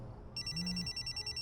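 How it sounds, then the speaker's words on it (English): A mobile phone ringing with a bright electronic trill that starts abruptly and repeats in quick pulses, fairly faint over a low background hum. "Suddenly, Aiden's phone rang."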